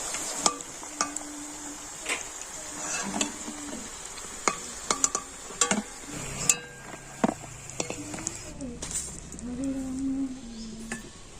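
Fried orange-shaped pitha lifted out of a hot oil pan in a home kitchen, with soft sizzling under repeated clinks and scrapes of a metal utensil against the pan, fairly close and steady.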